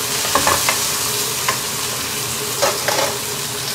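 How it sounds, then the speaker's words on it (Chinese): Long beans fry briefly in hot oil in a heated wok, a loud, continuous sizzle broken by a few sharp clacks and scrapes of a spatula, with no talking. "稍微煎一下就可以提上来了啊"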